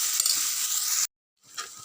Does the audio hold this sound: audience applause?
no